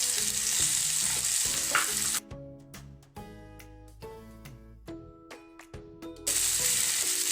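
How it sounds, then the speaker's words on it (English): Mutton frying in a pan for a home-style curry, a loud hiss that cuts out partway to leave tonal background sound, then returns abruptly near the end. "Now the mutton has nicely been fried for around 15 minutes."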